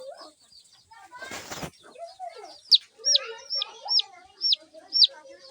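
Chicks peep in a steady series of high, sharp chirps, with a brief burst of rustling noise early on and soft clucking underneath.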